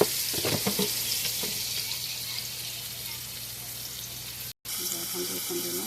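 Onions frying in oil in a pan for a Bengali-style fish curry, a steady broadband sizzle running throughout with a brief cut near the end and short bursts of talking over it.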